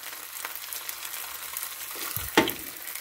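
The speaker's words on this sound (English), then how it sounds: "Frying the bologna." Bologna frying in Crisco in a pan makes a steady close sizzle throughout, with a brief louder crackle or scrape near the end.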